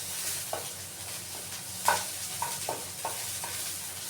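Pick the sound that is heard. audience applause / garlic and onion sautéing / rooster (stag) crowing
garlic and onion sautéing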